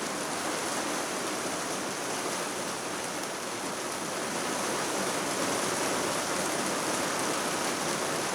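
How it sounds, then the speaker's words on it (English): Heavy rain mixed with lumpy sleet falls steadily onto already soaked ground, a dense, even hiss that stays constant from start to finish with no talking. "I think there's lumpy bits in that rain."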